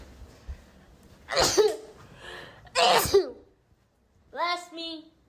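A girl's sneezing fit: two sharp, forceful sneezes close to the mic, followed by a short voiced sound, with quiet gaps between.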